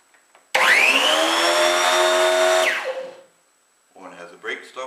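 A Garden Groom Pro hedge trimmer runs at high speed for about two seconds with a loud, whining motor and strong high-pitched harmonics, then winds down. Speech follows after the trimmer stops.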